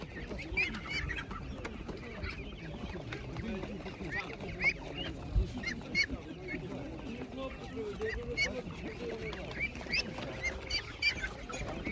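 Ducks quack and chatter repeatedly at moderate distance at a market, with scattered bird calls throughout.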